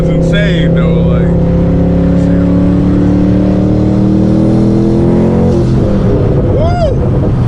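A twin-turbo Boss 302 Mustang engine roars through a hard pull, loud and close, its pitch climbing steadily through the gears. Turbo whistles and chirps rise above the drone, and a voice can be heard during the pull.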